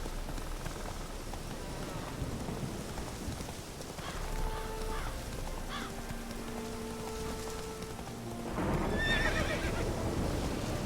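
Horse from The Witcher 3 snorts and whinnies over clip-clopping hooves and steady rain, with a louder burst of neighing near the end.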